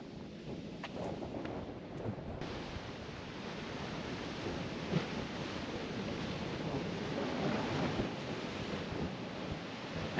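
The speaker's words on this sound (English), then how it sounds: "the waves are much rougher on this side of the island" Rough ocean waves on the windy, sparsely visited side of Aruba, a continuous low roar of surf mixed with wind buffeting the microphone, fairly faint and steady throughout.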